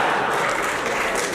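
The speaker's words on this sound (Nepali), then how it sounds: "यताकोले एकछिनपछि ताली पड्काउनु," Brief crowd applause at a Nepali political rally gives a continuous wash of clapping for about a second, with a voice speaking over it.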